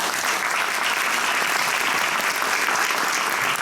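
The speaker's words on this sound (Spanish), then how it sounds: "¿Qué les parece si la recibimos con un aplauso?" Loud, dense applause from an audience at a panel event greets a guest panelist, a continuous wash of many hands clapping at close range without any pause.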